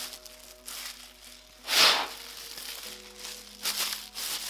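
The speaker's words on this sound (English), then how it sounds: "So sorry for the crinkly noise" Plastic packaging of disposable gloves crinkling and rustling up close, with one louder crunchy burst in the middle and softer handling noises around it.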